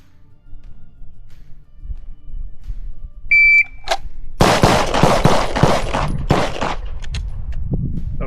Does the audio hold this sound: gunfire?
yes